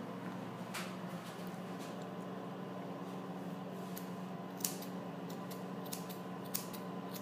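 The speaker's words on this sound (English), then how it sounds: "So I'll go up with my scissors." Grooming scissors snip a puppy's fur during a basic puppy cut, giving faint, irregular close-up clicks over a steady background hum, with a couple of sharper snips standing out.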